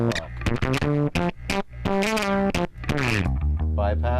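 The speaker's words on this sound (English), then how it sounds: "that's the full distortion of that 140 volt setting" Bass guitar played through a Radial Space Heater tube drive pedal at its 140 volt setting with drive turned fully up, giving a loud, heavily distorted run of plucked notes and sustained tones with no talking.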